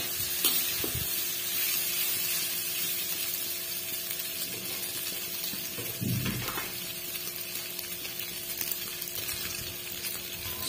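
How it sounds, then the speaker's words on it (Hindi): Previously fried pork goes back into a hot pan for a second frying for Naga-style pork pickle, sizzling steadily with soft stirring scrapes and a brief louder sputter midway. "अभी मैं फ्राई किया हुआ जो पोर्क था उसको डालूँगा मैं, तो फिर से इसको अच्छा से फ्राई करेंगे।"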